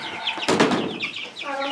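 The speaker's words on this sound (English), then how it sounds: "A Sapphire Gem chicken, I guess." Chickens, including a Sapphire Gem chicken, cluck and squawk close by, with a brief burst of flapping wings in the middle and more clucking afterward.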